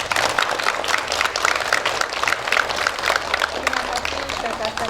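Applause from a crowd at a school Kartini Day ceremony in Indonesia, steady dense clapping filling the whole stretch, with a voice talking over it.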